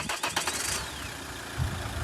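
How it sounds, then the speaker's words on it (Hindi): An eight-year-old Mahindra XUV500 diesel engine with about 200,000 km cranks briefly and settles into a steady, close idle rumble. There is a small knock near the end. "अभी सुनाता हूँ भाई मैं, 8 साल बाद ये इंजन कितनी नॉइस करता है 2 लाख करने के बाद।"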